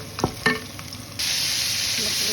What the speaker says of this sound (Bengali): এখন মশলা কষাই দিয়ে দিব।